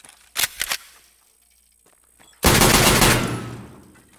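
Video game gun hip-fired in single-fire mode: a quick cluster of sharp shots, a pause, then a loud burst with a decaying tail.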